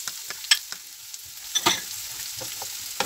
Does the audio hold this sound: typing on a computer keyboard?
no